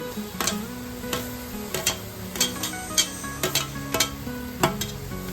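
Tomatoes and peas going into a hot frying pan for masala pav, giving a low steady sizzle with repeated sharp clinks and scrapes of stirring spread through the clip, fairly close, with no talk.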